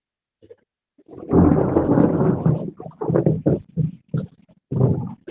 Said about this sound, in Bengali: এই যে বিদ্যুৎ চমকাচ্ছে, এটা আওয়াজ হচ্ছে